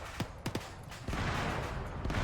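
Gunfire in the military video game Arma 3, in a Cold War battle for a town: a few sharp, distant shots crack in quick succession, then give way to a steady rumbling wash of noise.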